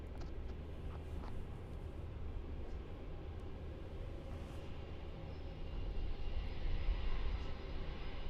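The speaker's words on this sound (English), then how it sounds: "We got this 777 going." A Boeing 777 departs Melbourne Airport, its jet engines giving a steady, distant broadband roar that swells somewhat louder toward the end, with no voices heard.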